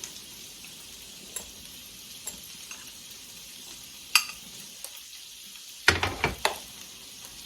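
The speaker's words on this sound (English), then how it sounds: "I'm gonna incorporate it with my spoon." A spoon stirs a stuffed-tomato rice mixture of cooked rice in a bowl or pot, giving scattered soft scrapes and clinks over a quiet hiss, with a cluster of sharper knocks near the end.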